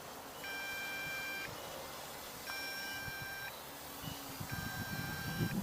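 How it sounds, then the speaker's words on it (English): An MJX Bugs 6 FPV drone sounds its alarm outdoors: three evenly spaced, steady electronic beeps, each about a second long, moderately loud over faint background noise. "So it's still going, still beeping."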